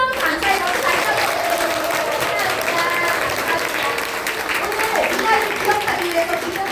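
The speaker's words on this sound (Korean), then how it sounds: "저희 홍진희 스폰서님께 큰 감사의 박수" A room full of people claps steadily in thanks to sponsor Hong Jin-hee at a business leaders' meeting, with dense, even applause throughout and faint voices mixed underneath.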